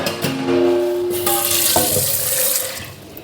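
Tap water runs steadily into a sink during late-night washing up, a continuous close splashing rush with clattering and shifting as items are rinsed under the stream.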